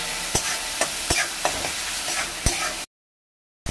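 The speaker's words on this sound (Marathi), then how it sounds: "आता दोन्ही एकदम मिक्स करून चांगलं फ्राई करून घेऊया तेलामध्ये।" Onion and tomato fry in oil while being mixed, with a constant sizzle broken by sharp, regular scrapes and taps of a spoon in the pan, close and fairly loud, then a brief cut to silence near the end.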